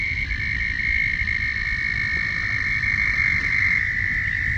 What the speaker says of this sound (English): Got a lot of toad action going on.